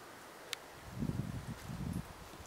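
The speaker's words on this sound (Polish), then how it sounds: "wiatr mi przeszkadza" Wind gusts outdoors over orchids growing in a roadside ditch in the Polish Jura, making a faint, low, muffled buffeting against the microphone for about a second.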